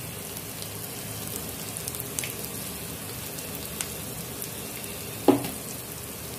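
Red chilli, garam masala and salt with potato and onion for a paneer sandwich filling, frying quietly in a pan as a soft steady sizzle, with a few faint ticks and one sharper clink of a utensil.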